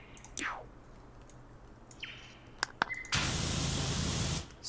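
Pressure washer water spray in the PowerWash Simulator video game, a steady loud hiss that cuts in partway through and holds for over a second before stopping, preceded by scattered clicks and brief tones.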